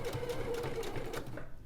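A sewing machine stitches bag fabric in a steady, fast mechanical whir with a rhythmic needle pulse, close and moderately quiet, stopping near the end.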